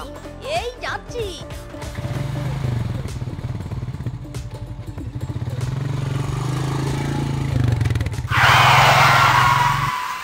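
A cartoon motorbike revving and speeding off, a steady buzzing engine drone that rises and holds, with brief voice sounds at the start and a burst of noisy clatter near the end.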